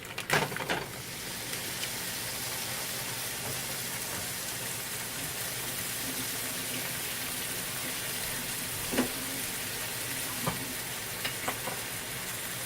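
Ground beef sizzles and fries in a pot for a stew, a steady close crackling hiss with a few scraping stir clicks.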